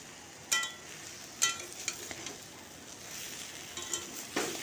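Drumstick and bitter gourd curry fries dry in a wok, with faint sizzling under several sharp stirring scrapes and clinks of a utensil against the pan.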